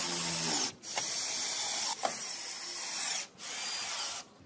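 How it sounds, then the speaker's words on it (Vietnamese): A power drill bores holes for wall plugs during a light-fitting installation, giving bursts of high, whining buzz separated by short pauses, close and loud, with no voices. "thì mình khoan từ mình đóng tắc kê ha"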